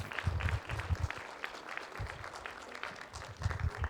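Audience applause at the Macfest 2020 opening ceremony at a British Muslim heritage event, a dense steady wash of many hands clapping that continues through the full four seconds at moderate loudness, with a few stronger bursts.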